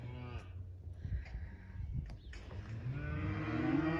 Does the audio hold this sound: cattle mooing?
yes